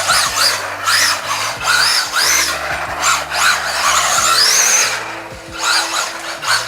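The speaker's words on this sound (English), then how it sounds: "I will do a little bit of driving on the roof when Colin gets home." WLtoys A979-B RC car fitted with WLtoys 184016 parts driving across a roof, its electric motor whining in steady bursts with skittering tire and gravel-like scrabbling, close and fairly loud, no voices.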